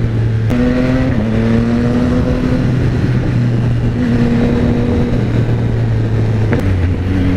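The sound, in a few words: Yamaha XSR900 motorcycle exhaust while riding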